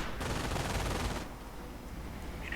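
MG42 machine gun fire in a World War II strategy video game battle, a dense, loud burst of rapid automatic fire that cuts off and leaves quieter ambient battle noise.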